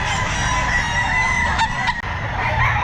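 A rooster crows loudly nearby at a pet market in White Grotto over a steady background of wind or traffic noise, with a brief clucking sound near the end.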